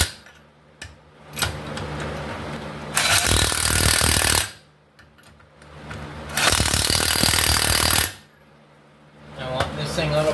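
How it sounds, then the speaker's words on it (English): An impact wrench on a 2008 Dodge Charger R/T wheel fires two loud, long hammering bursts of rattling impacts as it drives the lug nuts down, with quieter clicks and handling noise between them. "if you guys can hear the change in tone from low to high, but that tone tells me I've sunk the lug nuts down"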